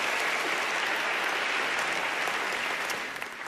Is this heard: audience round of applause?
yes